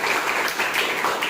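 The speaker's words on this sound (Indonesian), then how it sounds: "Marilah kita berikan aplaus berupa tepuk tangan." Classroom audience applauding a group's presentation, a dense steady wash of many hands clapping together at moderate loudness, continuous throughout with no gaps.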